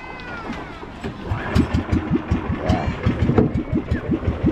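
A fishing boat's engine starts and settles into a steady, rapid chugging putter on the water, loud and close, with brief voices nearby.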